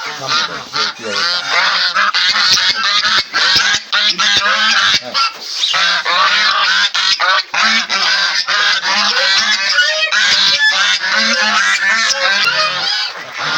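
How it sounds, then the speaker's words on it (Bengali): A brood of about nine goose goslings in a farm enclosure keep up a loud, dense chorus of overlapping peeping honks, close and continuous throughout. "রাজহাঁসের বাচ্চা।"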